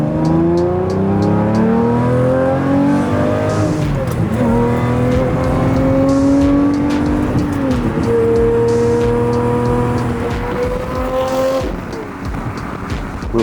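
Lamborghini Murcielago V12 engine pulling hard through several gear changes, each rising rev sweep broken by a brief dip at the shift, loud and close with a raspy roar throughout.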